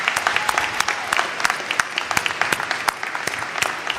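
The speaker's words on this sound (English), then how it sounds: "we are going to show that appreciation by giving them all a round of applause." Audience at a college fall graduation ceremony claps for the graduates, dense, loud applause filling a hall, with sharp individual claps standing out through the steady roar.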